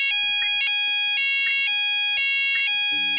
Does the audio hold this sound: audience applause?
no